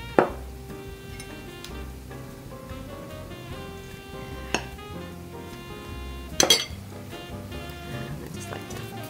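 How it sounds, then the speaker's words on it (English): A spoon stirs yeast dough in a bowl while flour is added for Polish paczki doughnuts, giving light scraping with a few sharp clinks against the bowl, close and fairly quiet, with no talking. "I just like to stir a little"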